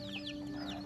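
Chickens clucking in a rural Lao village, a few short clucks over a steady hum, fairly faint and close.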